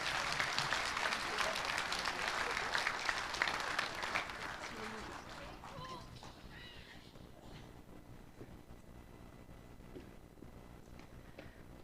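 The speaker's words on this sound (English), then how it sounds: "So would you give these guys a huge round of applause as they take their seat?" Church congregation applauding people as they take their seats at a Thanksgiving service, clapping that is fairly loud for the first few seconds, then thins and fades into quiet room sound with faint voices.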